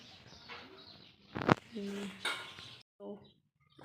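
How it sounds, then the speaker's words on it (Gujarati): Dishes, pots and utensils are washed outdoors in a village yard after rain. There are a few scattered metallic clinks and one sharp clatter, with birds and a distant voice in the background. "અહીંયા મમ્મી ઠામ કરે છે"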